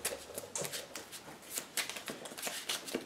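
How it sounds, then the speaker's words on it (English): Sleeved Pokemon trading cards are shuffled by hand at a table, giving a quick run of soft, flicking riffles and slaps that repeat close up with brief pauses and no talking. "Can't seem to get this shuffling right."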